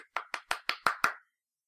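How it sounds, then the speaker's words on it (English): Six crisp, evenly spaced hand claps in quick succession, close and clear, each a short sharp slap that stops abruptly into silence. "They both deserve a round of applause."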